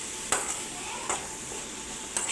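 Chopped tomato is stirred into sautéed onions in a pan, with three sharp scraping clinks of a spoon against the pan over a faint, low sizzle and no talk.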